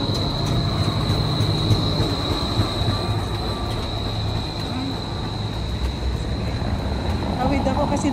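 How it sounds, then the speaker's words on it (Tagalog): A train rolls steadily past on the rails in Tacoma, a continuous rumble with faint wheel squeal and clickety-clack, heard from nearby outdoors under light ambient noise. "Ayan yung train."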